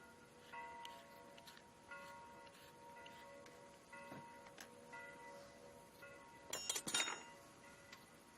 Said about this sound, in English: French bells.